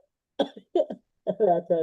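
A few short coughs in quick bursts, close and fairly quiet, separated by brief pauses of silence.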